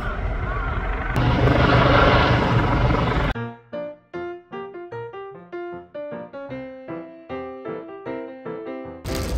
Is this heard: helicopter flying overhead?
yes